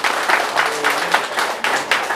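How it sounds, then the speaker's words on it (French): Clapping from a crowd at a women's celebration in Cotiakou, steady and fairly close, lasting about two seconds with a faint voice underneath. "applaudissez pour vous-même"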